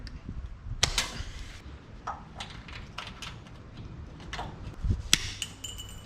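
Tin snips trim a sheet-metal filler piece for the cowl of a 1967 Toyota Stout during a body swap, giving several sharp, close metallic snips and clicks at irregular intervals with no talking.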